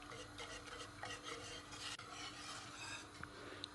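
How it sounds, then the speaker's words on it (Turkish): A wire whisk stirs banana milk pudding in a pot on the stove, scraping and swishing steadily against the metal. The scraping is quiet and close, with a few faint clinks and no talking. "Tatlım biraz koyulaşana kadar telle karıştırdım."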